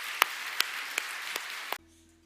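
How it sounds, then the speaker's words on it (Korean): Congregation clapping in a church at a Sunday sermon, a short burst of scattered sharp claps over a steady applause wash that cuts off abruptly, leaving near silence. "그렇게 될 줄 믿고 미리 감사의 박수 하나님께 올려드립시다."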